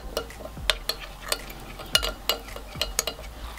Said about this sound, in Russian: Хорошенечко это все размешиваем